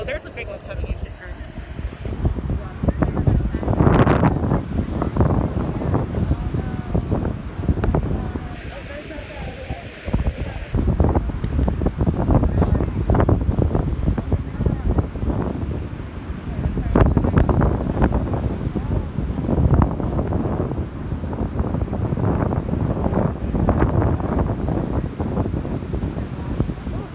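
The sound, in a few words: ocean waves at Pacifica Beach, with wind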